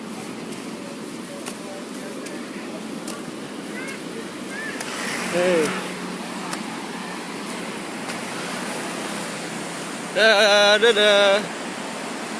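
Waves at Buruluk Beach in Sawarna make a steady, continuous surf wash, with brief voices calling out over it.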